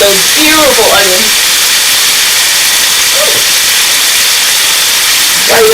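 Onions hit a hot stir-fry pan for a shrimp and chicken stir fry, setting off a loud, constant sizzling hiss that fills the whole stretch while a voice speaks briefly over it.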